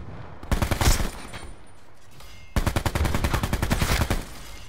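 Rapid automatic bursts from an assault rifle in Black Ops 4, close and loud: a short burst, a pause, then a longer sustained string of evenly spaced shots.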